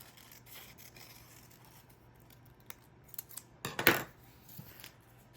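Scissors snip close by while fussy cutting around illustrations on pages from a Little Golden Book, with quiet rustling paper building to a loud cluster of crisp metallic cuts and a few lighter snips after; no talking.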